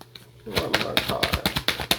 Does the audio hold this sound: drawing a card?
yes